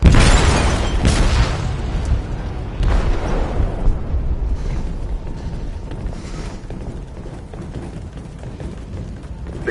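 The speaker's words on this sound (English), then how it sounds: "They detonated an explosive in the hold." Explosive detonated in a ship's hold in the game Detroit, a heavy booming blast with rumbling bursts in the first seconds, then a long decaying roar of groaning metal and debris.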